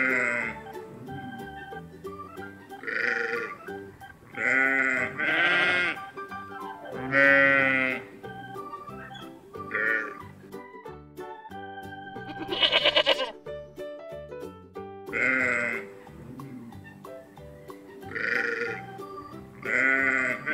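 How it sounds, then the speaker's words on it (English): Sheep bleat repeatedly in a series of loud, wavering calls spaced a second or two apart, close by and alone on a farm. "Sheep."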